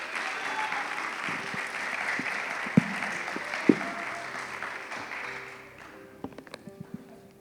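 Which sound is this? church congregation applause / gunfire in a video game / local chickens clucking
church congregation applause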